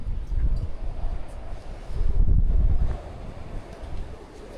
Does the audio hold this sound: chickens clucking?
no